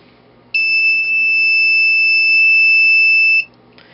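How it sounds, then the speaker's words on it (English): A 5-volt piezo buzzer sounds a piercing, steady electronic tone for about three seconds, then cuts off abruptly, with faint background hum before and after. "Now I've got it hooked up to a 5-volt piezo buzzer."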